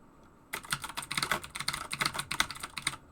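Rapid clicky typing on a DOS Keyboard Ultimate, a loud metal-bodied keyboard built on the Model M buckling-spring design, with dense bursts of keystrokes heard close up and no voices.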